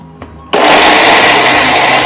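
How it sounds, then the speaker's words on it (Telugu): A mixer grinder kicks on after a brief quiet moment and runs loud and steady, powdering flattened rice (atukulu) with cardamom for laddu, a continuous high whirring roar close by. "ఈ పౌడర్ని మనం అటుకులు కూడా పోసేసుకొని పౌడర్ లాగా చేసేసుకుందాం."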